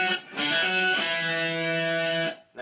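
Electric guitar played through a DigiTech effects unit with the Crybaby wah pedal switched off, a sustained, heavily processed chord ringing steadily for about two seconds before cutting off.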